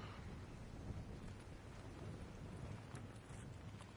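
Stormy weather in the video game Arc Raiders: a steady, dense wash of rain and rumbling thunder that fills the whole clip at an even level, with no voices.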